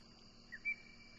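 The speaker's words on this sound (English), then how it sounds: "Got the nice summer birds." Summer birds and crickets in the farming game Stardew Valley: a steady high insect drone with a couple of short bird chirps in the middle, all soft and distant.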